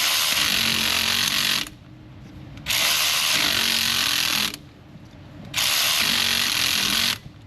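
A power impact tool tries to back out an alternator bolt on a customer's car, firing in three loud sustained bursts of hard whirring and hammering with short quiet pauses between them.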